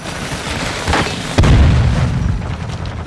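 A grenade detonates in Call of Duty Modern Warfare 2, a loud, close boom at mid-clip. A deep rumbling tail follows over steady battle noise.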